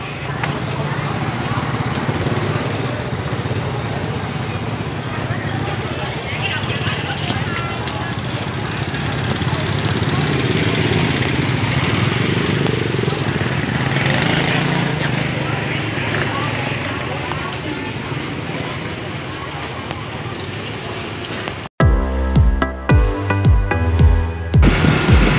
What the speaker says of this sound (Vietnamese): Hiện tại mình đang đi dạo bằng xe máy